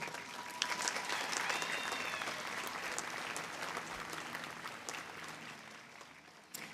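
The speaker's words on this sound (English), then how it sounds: "Let's applaud these graduates again." A university commencement crowd applauds the graduates with sustained, dense clapping that tapers slightly toward the end, and a few cheers or whistles rise briefly early on.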